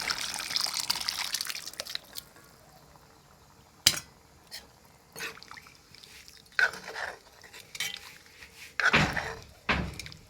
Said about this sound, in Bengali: এবার আমি দিয়ে দেব ডাল সিদ্ধ করা। ডালটা আমি দিয়ে দিচ্ছি।